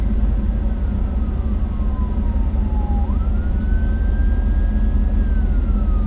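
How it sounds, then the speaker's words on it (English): A fire truck siren wails loudly over steady traffic rumble, its pitch sliding slowly down and then back up in a long continuous sweep, with no talking. "And I got a fire truck coming."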